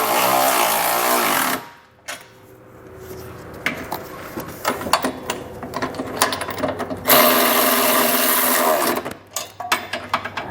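Ratchet snugging down trailer hitch bolts under a 2020 Nissan Rogue Sport, a loud, busy run of rapid mechanical clicking that pauses briefly then resumes in bursts.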